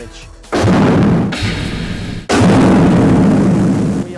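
Two heavy booming explosions in a blast chamber roar close by, each followed by a long rumbling, noisy decay that fills the space.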